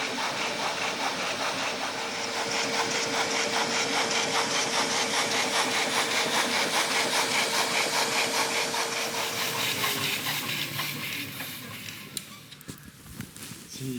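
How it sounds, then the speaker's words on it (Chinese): Model steam locomotive running under steam, a steady dense chuffing and hissing with rapid mechanical rhythm, fairly loud and continuous for about ten seconds before fading down, with no talk over it. "我们等一下就看一个真的蒸汽火车头的模型。"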